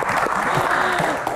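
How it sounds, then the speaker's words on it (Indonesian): Audience applause at an Indonesian Q&A talk session, a short burst of dense clapping mixed with crowd murmur. "Tepuk tangan Mbak Gian."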